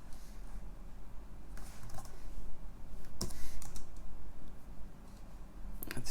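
Keyboard keys clatter in sparse, uneven bursts of light clicks on a computer keyboard used with a MiSTer FPGA running the Amstrad CPC core, close and fairly quiet over a steady background hum.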